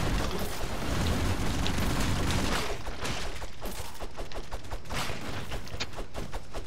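Dense, continuous gunfire and explosions from the side-scrolling action game Broforce form a loud, unbroken barrage of rapid shots, with no voices over it.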